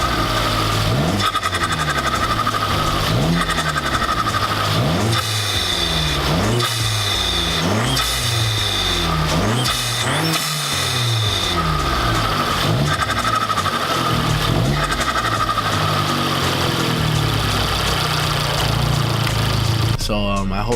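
Abarth car engine fitted with a new air intake and turbo blanket, idling and then revved repeatedly in a rising and falling pattern, loud and close, with several rev cycles over a steady idle.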